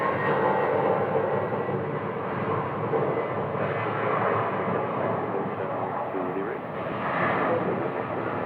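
Alaska Airlines flight 637, a jet airliner, departing at Phoenix Sky Harbor airport, with a steady broad engine roar holding throughout at a distance, a faint voice present underneath.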